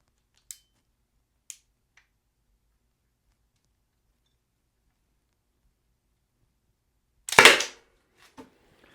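A Byrna less-lethal launcher fires once at a penetration test target, a single sharp loud crack after two faint clicks, with a small knock following in an otherwise quiet space.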